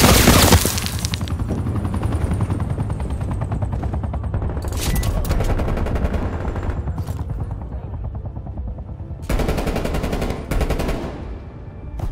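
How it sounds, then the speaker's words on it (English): A hostile sentry turret in Call of Duty: Black Ops Cold War fires continuous, heavy automatic gunfire with an aircraft-like rotor drone underneath, ending in louder bursts near the end. "Hostile sentry turret active."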